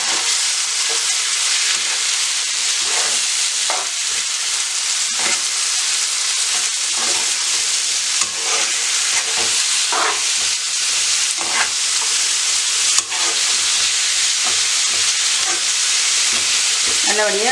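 Browned onions with added meat fry in a pan, giving a loud, continuous sizzle with scattered crackles and stirring scrapes throughout, alone without talk.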